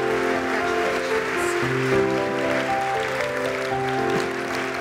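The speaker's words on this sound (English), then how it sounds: "let's give her another big round of applause" Audience applause at a live National Philanthropy Day event: steady, dense clapping from a crowd, continuous and fairly loud throughout, with sustained musical tones playing underneath.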